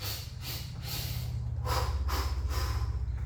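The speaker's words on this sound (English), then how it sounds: "That's how I breathe in phases." Close, loud phased breathing from a person recovering during a garage leg workout, a run of forceful rhythmic in-and-out breaths and snorting exhales, repeating steadily with no talk.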